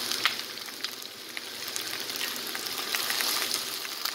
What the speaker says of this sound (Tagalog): Ang gigisa na natin